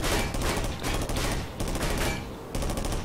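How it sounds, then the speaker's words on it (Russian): Video game gunfire from a high vantage in a depot map, rapid automatic bursts in three close, loud volleys with short pauses between, with no talk. "Откуда он стреляет?"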